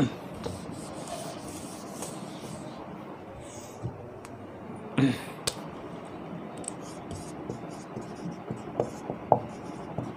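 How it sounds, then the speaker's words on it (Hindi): Soft rubbing strokes of writing on a board in a classroom, close but faint and continuous, with occasional small taps and knocks and no clear talk. "मैं लिख देता हूँ।"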